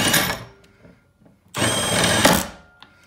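Milwaukee M12 Fuel 3/8-inch stubby impact wrench running in fastening mode on a bolt: a short whirring burst, a pause, then a longer, louder run that cuts off abruptly as it stops on its own.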